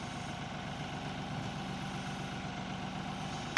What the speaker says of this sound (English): get in the tractor, lower the bucket, and raise me up